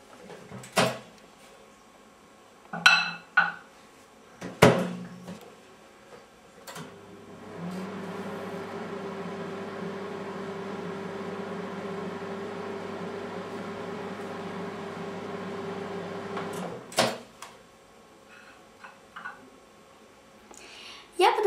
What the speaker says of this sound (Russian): И ставим разогреваться в микроволновку.